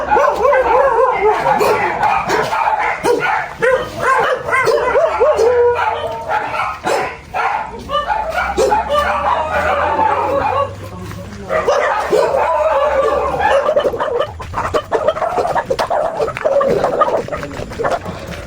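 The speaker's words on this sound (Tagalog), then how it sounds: "Katakot baka may aso." Several dogs bark and yip repeatedly along an uphill path, loud and close, with whimpers between bursts while people talk and call out over the barking.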